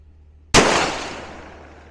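A single sharp 6ARC rifle shot at an outdoor range with a target at 800 yards. The report is loud and close and decays over more than a second after a quiet, faintly humming start.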